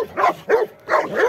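A dog barks close by in quick bursts, three or four sharp barks in an uneven rhythm with a short pause between pairs, loud and clear with no talking.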